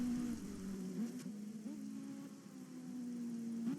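Rain in the Project CARS racing game during a DTM race at Brno, a steady broadband patter with a constant engine drone humming beneath it.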